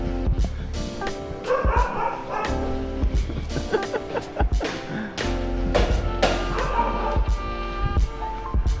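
A dog in a Da Nang neighborhood barks and yips in a string of sharp, fairly close bursts with short pauses, some whimpering between, over light background noise.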